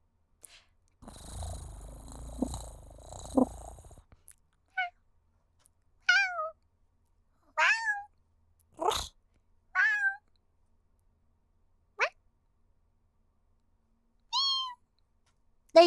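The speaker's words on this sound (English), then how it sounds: "There you go, cat noise." A cat meows repeatedly, about seven short rising-and-falling calls spaced a second or two apart, close and clear against near silence, after a low purring rumble at the start.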